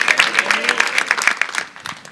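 Church congregation clapping in praise during a sermon, a brisk rhythmic patter of many hands with a voice faintly mixed in.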